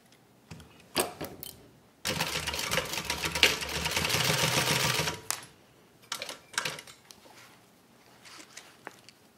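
A sewing machine stitches a zipper pouch in one loud, sustained run of rapid clatter lasting a few seconds, framed by scattered clicks and handling knocks before and after, close up with no voices.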